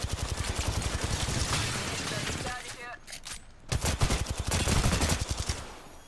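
Rapid automatic gunfire bursts in the shooter game Apex Legends, loud and dense, pausing briefly midway before resuming in steady rattling volleys, with game sounds layered around it.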